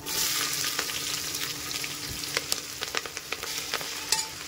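Chopped onions and green chillies frying in a pan with roasted ginger and whole spices, giving a steady close sizzle with scattered crackles and pops throughout.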